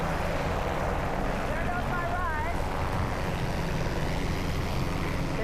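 A boat pulls away after dropping someone off at a remote shoreline, its motor a steady rumble blended with wind and water noise, with a person's voice mixed in.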